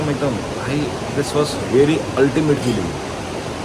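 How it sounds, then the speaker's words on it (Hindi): A river in Tirthan Valley keeps up a steady broadband rush behind someone talking in Hindi and English, and the flowing water stays constant under his voice. "पीछे पानी की आवाज़ देखो कैसे ही आ रही है यार"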